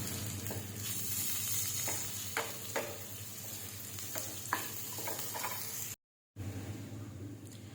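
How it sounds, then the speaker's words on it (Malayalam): Fried onions with fish masala and chili powder are stirred in a pan for a Kerala-style fish masala, giving a steady close sizzle with repeated scraping strokes and a brief silent break near the end. "നമുക്ക് കുറച്ച് ഫിഷ് മസാലയും ആവശ്യത്തിന് എരിവനുസരിച്ച് കുറച്ച് മുളക് പൊടിയും ചേർത്ത് നന്നായിട്ട് ഇളക്കിയെടുക്കാം."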